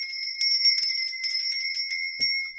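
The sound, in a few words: ringing a bell to cleanse the space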